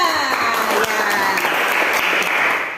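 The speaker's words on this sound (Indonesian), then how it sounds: "Sekali lagi kita berikan tepuk tangan untuk kelompok 3." A classroom of students applauds a presenting student group, a loud dense wash of clapping that stays constant and close throughout, with faint voices mixed in.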